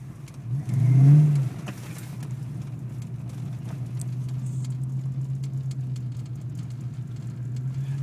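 A car creeping along slick, snow-covered roads toward a house gives a steady low droning vibration and rumble; a brief louder surge comes early, and then an even hum with a faint patter carries on alone.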